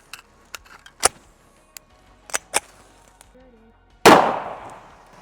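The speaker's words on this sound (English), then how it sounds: "So let's see how that with 45 ACP does against our diet sodas." A 1911 pistol fires .45 ACP at diet soda cans: after a few faint clicks and handling sounds, a single loud, sharp shot rings out near the end and trails off in a decaying echo.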